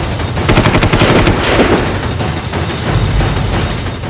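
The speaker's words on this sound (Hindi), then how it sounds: "लिहाजा उसने रात के अंधेरे में फायर किया" Rapid bursts of gunfire ring out at night, loud and close, with fast machine-gun-like volleys and scattered shots echoing over a rough, noisy background, and no speech.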